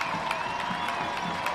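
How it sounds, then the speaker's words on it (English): Stadium crowd at a Phoenix Rising FC versus San Antonio FC soccer match applauding as Adrian Pelayo is substituted off, a steady, moderate wash of clapping and crowd noise with a few louder bursts. "it will be Pelayo coming off to a round of applause"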